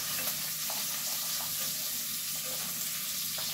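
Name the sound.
onions frying in a pan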